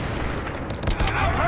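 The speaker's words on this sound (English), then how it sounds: "Someone is shooting at me." Rapid bursts of automatic gunfire in the mobile shooter game Call of Duty Mobile during a multiplayer match, a few sharp cracks clustered near the middle over a steady game-noise bed, moderately loud, with a voice speaking in the game.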